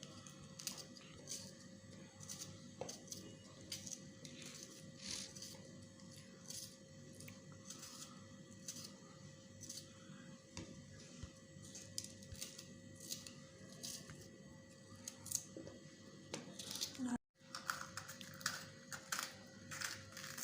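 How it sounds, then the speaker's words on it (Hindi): A knife finely chops bell pepper on a board for an aloo shimla mirch dish, quick crisp taps repeating in uneven bursts, close and quiet, with a brief pause near the end. "इसको भी बिल्कुल बारीक बारीक काट लेना है हमने"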